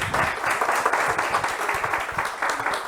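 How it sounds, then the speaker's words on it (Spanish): An audience applauds steadily after an architect's talk on urban forestry and sustainable cities, a dense, even patter of many hands clapping throughout at moderate loudness with no voices. "Muchas gracias, arquitecto Sato, un aplauso."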